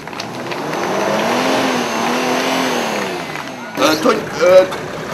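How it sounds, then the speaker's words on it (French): A car engine idles steadily at close range with a low, even hum for several seconds, then cuts out, followed by brief knocks and shuffling. "couper le moteur"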